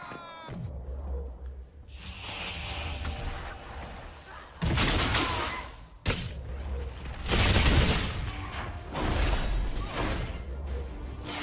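Spell explosions and fire mines in the fantasy combat game Dragon Age Inquisition, a string of heavy booming blasts and crashing bursts spread over several seconds, loud and close, with a voice talking between them.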